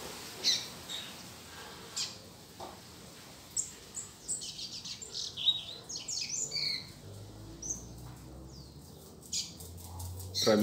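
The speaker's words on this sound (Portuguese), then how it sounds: "O passarinho tá cantando um pouco mais aí." A caged coleiro songbird sings outdoors in short, bright chirps and whistled phrases, scattered and intermittent at first, then coming more often, fairly faint over soft background noise.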